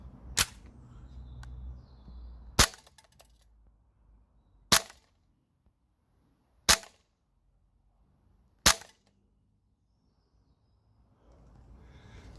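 Tokyo Marui Sig P226 E2 airsoft pistol firing 0.25 g BBs on green gas, five sharp, loud, close single shots spaced about two seconds apart in near silence.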